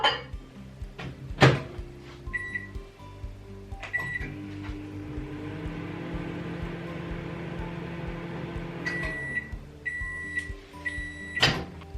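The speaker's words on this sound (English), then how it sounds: "I'm just going to pop it in the microwave for around about 5 seconds" A microwave oven melting butter in a mug: a door clunk and beeps, then a steady low hum from the running oven for several seconds, ending in more beeps and a sharp door click.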